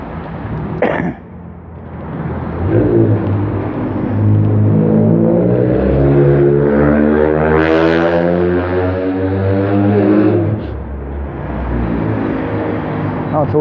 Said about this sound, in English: I thought the kids had got over noisy exhausts on their little cars